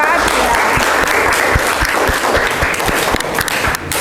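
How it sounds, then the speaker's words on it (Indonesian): A high school class in Tuban, Indonesia, breaks into loud, dense applause for a presenting group, a steady wash of many hands clapping close by for about four seconds, with voices mixed in. "Tepuk tangan ya buat kelompok 4"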